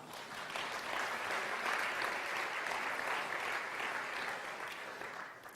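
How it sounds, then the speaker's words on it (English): A conference audience gives a warm round of applause, a dense, even wash of clapping from many hands that holds steady for a few seconds. "Give her a round of applause."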